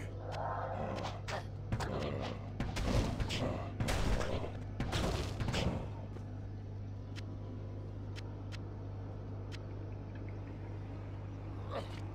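Explosive arrows fire and burst in Diablo II, a cluster of sharp, loud blasts and thuds crowding the first half, then sparse isolated pops over a steady low game hum.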